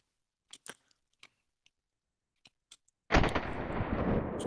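A Walther MPL gas blowback airsoft gun gives a few faint, sparse mechanical clicks, then erupts into a loud, sustained full-auto burst of rapid, dense shots lasting over a second.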